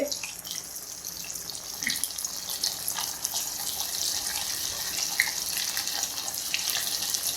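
Chicken pieces for Chicken 65 frying in hot oil over medium flame, a steady close hiss and crackle with scattered small pops, alone with no voices.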